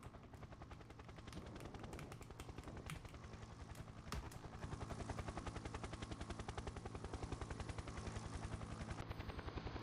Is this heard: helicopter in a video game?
yes